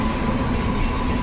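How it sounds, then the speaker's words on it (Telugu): A train rolls along a railway track beside a house, making a brief, loud, continuous rumble that runs unbroken through the whole moment. "రైలును కూడా వీక్షించగలరు."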